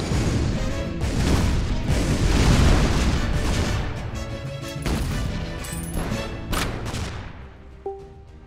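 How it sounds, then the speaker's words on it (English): A shotgun blast in the artillery game Shellshock Live: a loud, booming explosive burst followed by crashing impacts and smaller pops, sustained and dense for several seconds before tapering off. "Fire the shotgun!"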